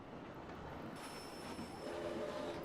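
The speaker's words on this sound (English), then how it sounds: "as soon as this train down here drops" Mine train roller coaster arriving in the Planet Coaster video game, a faint rumbling rolling of cars on track with a soft squeal building toward the end.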